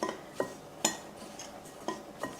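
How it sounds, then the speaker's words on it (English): Zucchini and shredded onions go into a pan with a few light clinks and scrapes of a utensil against cookware, spaced irregularly and fairly soft, with no talking. "I'm going to go ahead and add the zucchini and the shredded onions to this."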